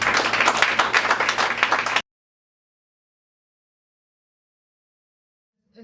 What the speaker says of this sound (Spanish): Un aplauso para el Señor Jesucristo.